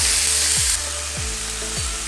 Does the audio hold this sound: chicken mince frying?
yes